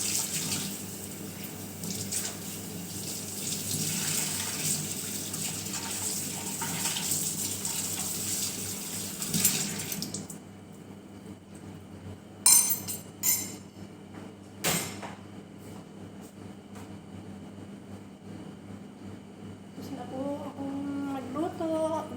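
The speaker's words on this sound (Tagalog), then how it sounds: "Ako po'y nagbuhugas na yun ng plato." Running water from a sink tap pours steadily for about ten seconds while dishes are washed, then cuts off, followed by a few sharp clanks of plates and utensils and quieter splashing.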